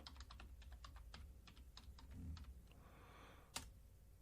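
Search words typed on a computer keyboard, a quick run of close, light key clicks followed by a brief pause and one sharper tap, quiet and without speech.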